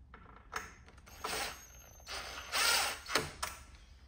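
Bolts are threaded by hand into a Sea-Doo supercharger, giving faint, close metallic clicks, scrapes and short ratcheting bursts at irregular intervals in a quiet space.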